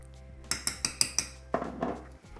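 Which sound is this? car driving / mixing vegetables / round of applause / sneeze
mixing vegetables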